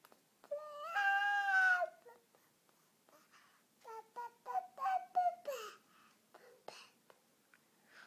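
A young child imitates a chicken with high voiced clucks and squeaks, one long wavering call followed by a string of short bursts, close and alone in a quiet room.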